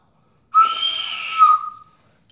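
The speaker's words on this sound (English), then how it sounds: "Here is pink blow hole. And this sounds really cool." A loud, airy whistle from a pink blowhole with a sharp tonal edge, rushing for about a second before fading into a softer hiss.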